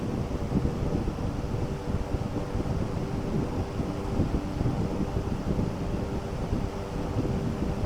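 A 90-watt BLDC cooler fan motor with its blade spins at speed setting 5, producing a steady, close whooshing airflow with a low hum, unbroken and without talk.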